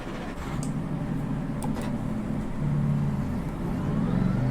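A race car pulls out onto the track, its engine droning in a steady low hum that builds slightly toward the end, heard alone without talk.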